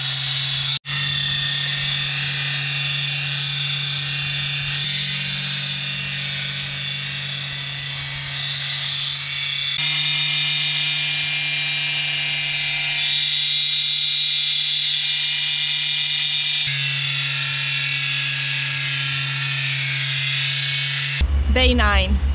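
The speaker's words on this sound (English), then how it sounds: "that's the sound of beautiful polishing" A power polisher whirs steadily on the hull of a Hallberg-Rassy 54 sailboat in a Maryland boatyard, a close, loud, sustained hum whose pitch shifts as pressure changes, with a brief louder burst at the end.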